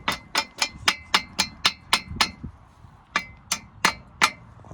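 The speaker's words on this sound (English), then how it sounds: "Go ahead and try to pull these cotter pins out and see what happens." A hammer beats on metal while knocking cotter pins out of scrap farm equipment: about a dozen sharp, ringing strikes in a steady rhythm, a short pause, then a few more, close and alone.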